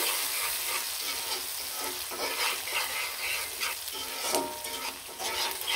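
Chopped onion stirred in a frying pan where river fish were just fried, with a steady sizzle and scraping stirs throughout, close and fairly loud, no talking.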